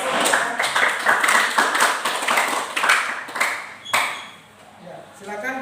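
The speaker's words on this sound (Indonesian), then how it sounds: "Beri tepuk tangan yang meriah." A school class claps for a classmate's demonstration in a lesson on mechanical waves, producing a burst of close, sharp hand claps in uneven rhythm that tapers off, with a voice speaking afterward.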